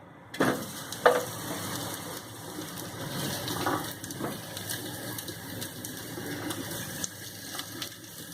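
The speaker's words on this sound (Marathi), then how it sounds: "तर हा कांदा आपल्याला चांगला लालसर होईपर्यंत भाजायचा." Chopped onion fries in a small spoonful of oil in a pan, giving a steady crackling sizzle. A couple of sharp thuds come near the start, likely as the onion is tipped in, and the hiss continues throughout with no talk.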